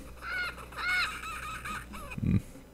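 Harsh bird squawks from a parrot in a German-language jungle video game, a few raspy calls sounding over steady game ambience, followed by a short low thump near the end.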